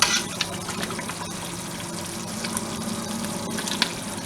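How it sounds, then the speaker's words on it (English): A pot of banga soup made from palm kernel extract with dried fish bubbles at a steady boil, a continuous faint watery simmer with small pops and no talking. "that is our soup boiling away, our banga soup and the dried fish"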